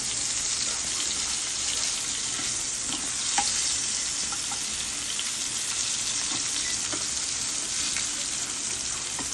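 Food frying in hot oil over a high gas flame gives a steady, bright sizzle with occasional small pops and crackles, close and continuous with no talking.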